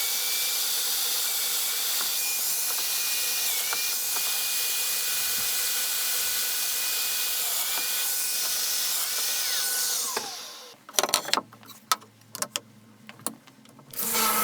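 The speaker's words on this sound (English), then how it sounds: "checking for square again before cutting the domino mortises" A power tool runs with a steady high whine for about ten seconds, then winds down, followed by a few sharp clattering bursts from the domino joiner as mortises are cut in wood.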